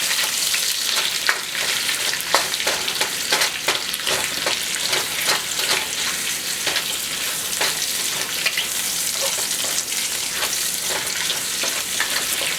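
Garlic and ginger toasting in a hot pan of oil for chicken with ginger and scallions, a steady close sizzle with crackling and occasional stirring scrapes, no talking.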